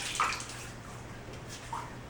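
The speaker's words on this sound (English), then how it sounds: "Put some hot tap water on my face." Hot tap water runs as a steady, quiet hiss during a shave with a Schick injector razor, with a couple of faint splashes and no speech.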